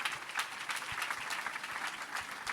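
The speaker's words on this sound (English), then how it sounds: "If you want to clap." Audience applause at a book review panel session, a dense sustained clapping from a crowd that fills the room steadily throughout, with no voices breaking through.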